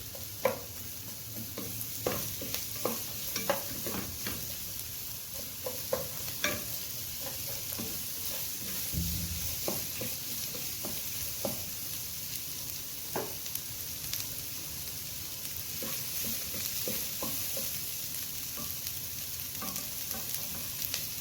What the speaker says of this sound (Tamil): அந்த வெங்காயத்தையும் ஆட் பண்ணி நல்லா அந்த எண்ணெயில் வதக்குங்க.